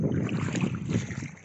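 Large waves at a sandy beach make a steady, close wash and roar with gusty wind buffeting the microphone, no voices.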